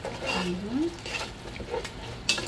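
Cream poured into a hot pan for a chili oil pasta, a brief burst of splattering and sizzling with clinks of cookware and a short vocal exclamation over it.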